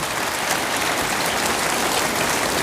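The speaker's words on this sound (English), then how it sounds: "Round of applause, please, for Mr. Sunak taking my questions" Sustained applause from a large crowd at a Conservative leadership hustings, dense and even clapping throughout with no pauses.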